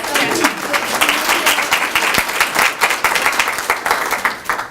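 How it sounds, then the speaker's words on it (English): Audience applause at a talk on HR topics, a dense steady clapping from a crowd that fills the whole stretch at an even loudness. "Another round of applause."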